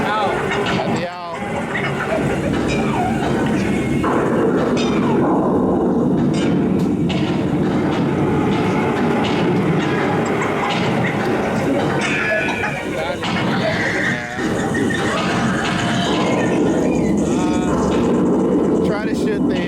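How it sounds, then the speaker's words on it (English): A Disneyland train rolls past amid steady crowd and park noise, a continuous rumble with faint rail clatter while people talk throughout. "Try to shoot the train coming around, moving target."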